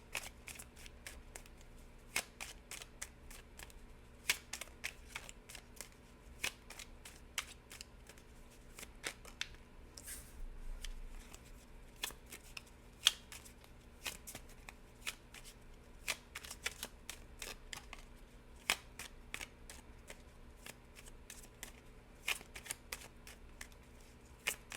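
A deck of tarot cards is shuffled again and again, with quick riffling bursts and crisp snaps repeating irregularly at close range against a quiet background.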